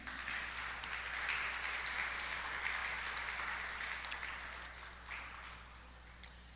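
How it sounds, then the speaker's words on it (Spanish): Congregation applause during a Spanish-language church service, a steady wash of clapping at moderate volume over a low background hum, slowly tapering. "Vamos a darle un aplauso al Señor."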